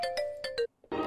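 A phone ringtone plays as a short, bright melodic jingle of repeated tones, loud and close. It cuts off abruptly, and after a brief silence a noisy burst follows.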